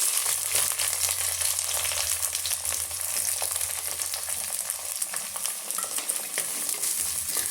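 Chopped onions sizzle and crackle in a hot pan for egg masala gravy, a steady close frying hiss with occasional stirring scrapes.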